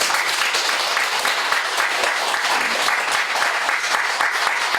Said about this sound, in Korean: 큰 더 한 박수 좀 부탁드립니다